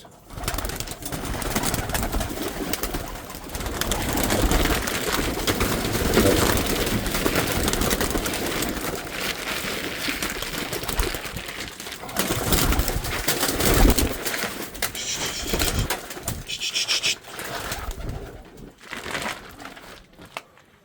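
Pigeons coo in a loft amid constant fluttering, rustling and scratching, the soft cooing repeated throughout under a busy close-up bird noise bed, with no voices.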